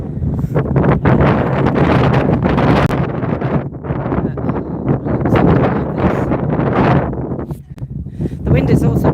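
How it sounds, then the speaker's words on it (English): Strong wind gusts buffet the microphone outdoors near the ruins of a great hall, a loud continuous roar with rumbling low-end blasts that ease briefly and then return. "The wind is also buffering my hands a little bit"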